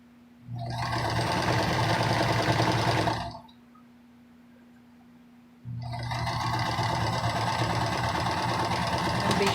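A sewing machine stitches the top seam of a fabric face mask in two steady running bursts with a short pause between them, close and loud with no talking.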